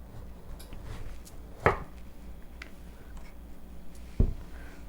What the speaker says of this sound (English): Then you're going to take your knife and go straight down.